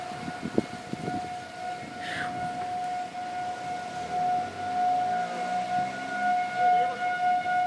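Tornado warning sirens in Bartlett, Tennessee wail as a steady distant tone, with a few sharp knocks at the start and wind noise gusting underneath.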